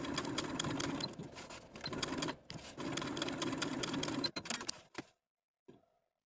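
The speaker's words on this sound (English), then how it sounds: "we're going to take it to the sewing machine and sew around the outer lines that we've drawn" A domestic sewing machine runs in bursts, stitching around drawn outer lines on fabric for a long-sleeved garment with plackets, a steady close whir broken by short pauses before it stops and a faint click follows.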